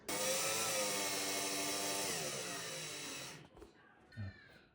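A power drill bores into a home wall to hang a picture, running loud and steady for about three seconds before cutting out, followed by brief faint handling noises.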